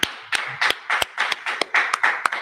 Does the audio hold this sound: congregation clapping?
yes